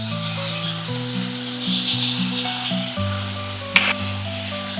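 Onions, ginger, garlic, green chillies and spring onions frying in a pan give a steady close sizzle, with an underlying low tonal hum and a couple of brief clinks.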